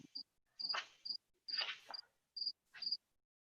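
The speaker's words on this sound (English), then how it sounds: "I hear crickets" Crickets chirp outdoors in repeated short, high-pitched pulses, with voices speaking between and over the chirps.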